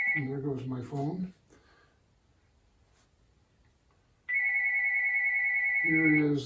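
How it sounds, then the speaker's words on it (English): A mobile phone rings during the bench assembly of a Timber X radio-controlled plane, with a short burst of its electronic ringtone melody, a brief near-silent pause, then the tune starting again, loud and close. "there goes my phone."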